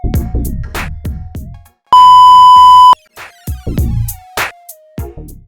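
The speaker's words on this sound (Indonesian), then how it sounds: "tekan pinhole-nya agak lama sampai bunyi bip menggunakan jarum" A postpaid kWh electricity meter made by Hexing gives one loud, steady electronic beep of about a second as its pinhole is pressed with a needle, set among brief clicks and tapping sounds.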